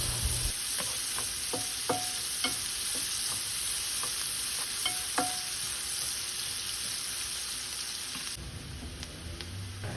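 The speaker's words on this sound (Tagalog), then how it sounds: "At igisa natin hanggang sa malanta ang sibuyas." Onions sautéing in a pan after garlic, a steady broadband sizzle with repeated clicks and scrapes of a utensil stirring against the metal, close and continuous with no voices.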